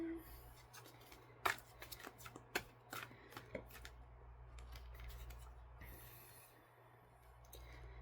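Tarot cards shuffled and pulled from the deck, with a burst of crisp riffling and snapping in the first few seconds, then softer rubbing and sliding of cards under a low background hum.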